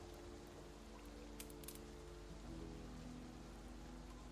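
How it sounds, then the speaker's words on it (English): Soft, steady rain patters quietly and evenly throughout, with a low sustained tonal drone underneath and no voices. "Kade listens to the rain"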